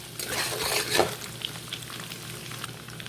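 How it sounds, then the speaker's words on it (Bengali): Two duck eggs frying in oil in a pan, a soft continuous sizzle with light stirring and utensil taps, fairly quiet and close; no talking. "তেলের সাথে ডিম দুটো ভালো করে ভেজে নেব"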